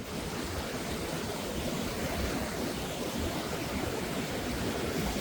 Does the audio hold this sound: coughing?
no